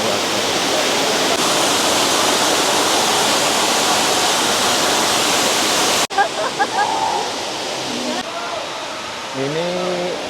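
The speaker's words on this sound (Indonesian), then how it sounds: "Ini sampai di sebuah pelataran yang backgroundnya itu air terjun." Waterfall at Gu Long Xia in Foshan, China, a steady loud broadband roar of falling water filling the first six seconds, then continuing somewhat softer beneath a person's voice.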